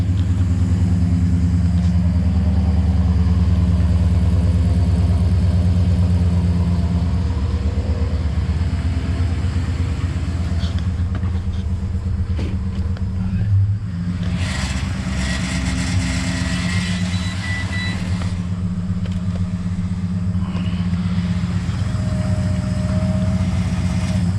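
A Holden Calais with an LS1 V8 engine, cold-started, rumbles and idles steadily at close range, a deep continuous throb with slight fluctuations and no voices.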